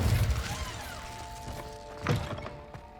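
An Incendio fire spell is cast in Hogwarts Legacy on PC, opening with a loud burst and followed by a second crackling blast about two seconds later, over a low game hum with faint mechanical clatter.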